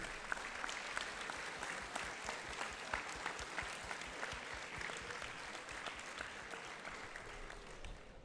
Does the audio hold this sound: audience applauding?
yes